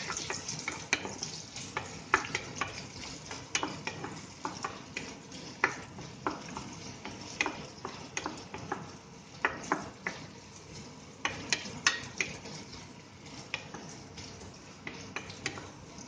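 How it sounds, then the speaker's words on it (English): Steady sizzling of onions frying in a pan after mustard seeds and cumin, with frequent small clicks and scrapes of stirring throughout, close up and with no talking. "Keep frying the onions"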